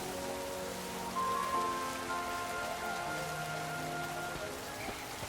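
Steady rain falls in the Pokémon Legends: Z-A video game, a soft continuous patter with faint tonal game music running beneath it and no voices.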